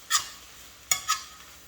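Spinach in a pan is stirred, giving three soft scraping swishes close by, quick and irregular, over a faint low background with no voices.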